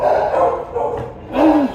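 Dogs kept in cages at a slaughterhouse give short, close yips and a rising whine over a steady rumble of background noise.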